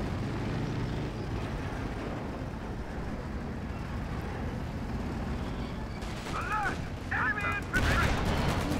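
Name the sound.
tank gunfire at a Panther from Shermans in Company of Heroes 2 (video game)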